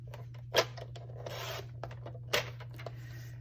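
Designer series paper being cut by hand, with two crisp snips standing out over a low steady hum and some faint rubbing in between.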